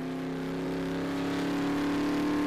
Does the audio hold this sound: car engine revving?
yes